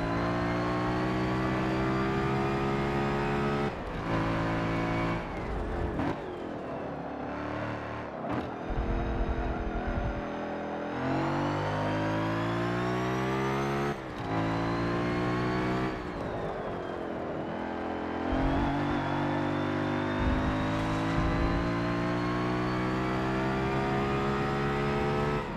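Race car engine in Forza Motorsport 7 revving hard and shifting through gears, loud and close, with repeated drops in pitch at each upshift and braking, then climbing again over roughly twenty-five seconds of continuous driving.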